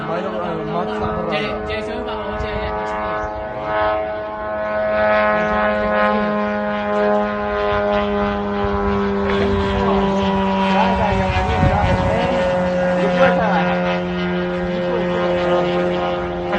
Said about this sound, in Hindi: ये अब तो ड्रोन की लहर देखने को मिल रही।